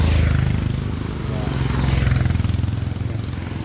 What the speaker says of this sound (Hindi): वो बाइक आ रहा है